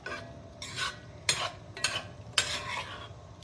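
Shrimp stir-fry in a seasoned pan as a utensil scrapes and tosses them in five or six quick, bright strokes over a faint steady sizzle, nearby with no voices.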